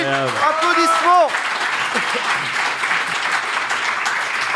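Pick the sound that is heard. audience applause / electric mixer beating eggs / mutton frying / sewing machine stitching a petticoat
audience applause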